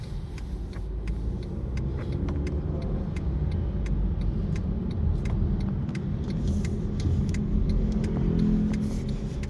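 A car idles with low engine rumble and road noise as it turns into a petrol station, with a steady ticking, like an indicator, running through the whole clip from inside the cabin.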